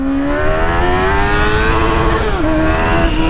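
A loud Yamaha XJ6 motorcycle engine revs up steadily in first gear, its pitch climbing continuously, then briefly dipping before rising again; close and aggressive.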